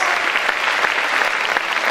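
Dense, steady applause from an auditorium audience, many hands clapping together in a continuous loud wash with no voices standing out.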